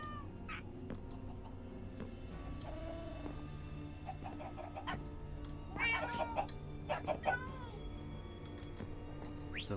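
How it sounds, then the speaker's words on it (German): Cats meowing inside the Minecraft video game, several short mewing calls bunched near the middle and end over a steady layer of game background noise and music. "Denn ich möchte nicht, dass die Katzen hier unten sind."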